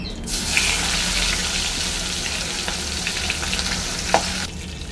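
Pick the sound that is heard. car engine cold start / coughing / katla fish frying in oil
katla fish frying in oil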